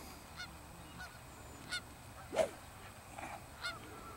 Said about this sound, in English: These geese are annoying.